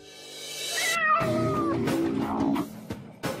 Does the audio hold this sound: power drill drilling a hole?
no